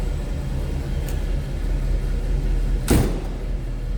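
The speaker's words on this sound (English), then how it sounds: "Door closes nicely." Door of a 1947 Ford Deluxe Convertible street rod shutting with a single solid thump near the end, over a steady low idle rumble.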